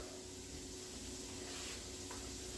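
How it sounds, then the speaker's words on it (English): Onions and garlic sautéing in a pan for a creamy chicken soup, giving a steady, even sizzle that holds without a break throughout, close and moderately loud, with no talking. "We're gonna saute the onions and the garlic."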